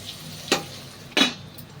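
Chopped tomato pieces softening in a pan of oil while making a chicken biryani joint fry, giving a low steady sizzle with two short bursts of stirring or spattering.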